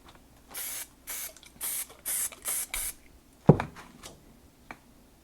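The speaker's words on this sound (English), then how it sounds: "So I can even spray like this lighter color over top of the red" Six short bursts of acrylic spray paint hiss in a steady rhythm, followed by a sharp clatter and a few faint knocks.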